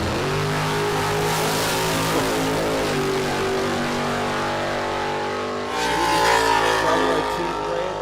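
An LC Torana drag car revs on the start line at Sydney Dragway during a drag racing championship round, a steady loud engine drone that shifts and rises near the end.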